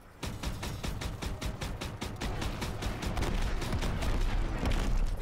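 Rapid, dense gunfire rattles continuously in Call of Duty WW2 during a Rhine battle, with a steady run of loud bursts and no pauses.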